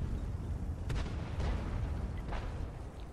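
Tank cannon fire from the World of Tanks video game, with three booming shots at short intervals emptying a magazine over a low rumbling battle background.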